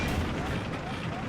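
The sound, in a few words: gunfire and explosions in the video game Battlefield 3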